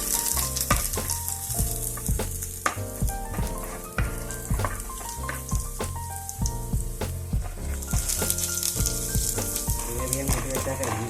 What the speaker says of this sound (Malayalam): ഇപ്പോൾ ഞാൻ ചെയ്യുന്ന ഇത് ഉള്ളി തളിച്ച് വിട്ടാൽ മതിയാവും. ഇത് നല്ലപോലെ മൂക്കണം കേട്ടോ.